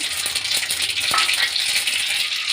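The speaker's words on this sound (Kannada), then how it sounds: "ಈಗ ಎಣ್ಣೆ ಕಾಯ್ದಿದೆ ಸಾಸಿವೆ ಹಾಕೊಳ್ಳೋಣ" Mustard seeds and chana dal frying in hot cooking oil for a mango puliyogare paste, a steady close sizzle with light crackling pops and one brief clink of a utensil, no speech.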